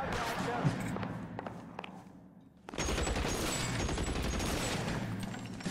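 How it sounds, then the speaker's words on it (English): Gunshots in the L.A. Noire video game: a string of sharp shots, a short lull, then a dense burst of rapid firing that carries on steadily, loud and close, with some talk mixed in. "he's shooting at us"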